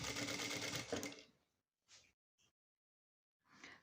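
Sewing machine stitching a shopper bag seam with a 0.1 mm bartack, running in a loud, fast continuous burst for about a second, then a few short quiet mechanical clicks and a brief final whir.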